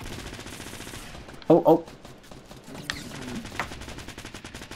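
Fortnite gunfire crackles in a short double burst near the middle, loud against a busy game backdrop, with a player's brief exclamation and other faint shots later.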